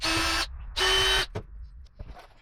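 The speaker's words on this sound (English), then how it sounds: "I'm leaving that first screw in there so this plate doesn't move on me while I'm trying to drill these other holes out" A power drill with a 7/32 bit opens up holes in a metal plate held by a screw, running in two loud whining bursts with a short pause between, followed by a few faint clicks and knocks.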